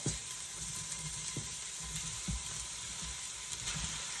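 Food sizzling steadily in a pan with vegetables, cooked in its own juices without extra oil; a constant close frying hiss with occasional small pops and utensil taps, no talking.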